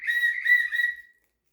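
A basic plastic whistle from a geology rock pick hammer kit gives one clear, shrill blast of about a second, warbling slightly before cutting off, heard close and alone.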